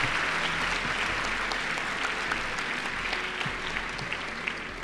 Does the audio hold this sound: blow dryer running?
no